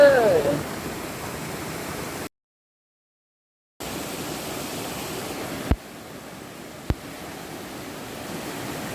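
A waterfall in Thailand gives a steady broadband rush of falling water, broken by a gap of silence and a couple of sharp clicks, with no talk over it.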